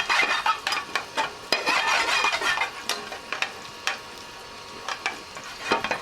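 Cumin seeds fry in hot oil in a pan, giving a bright crackling sizzle with scattered sharp pops and a few utensil clinks. The sound is close and fairly loud and lasts a few seconds without speech.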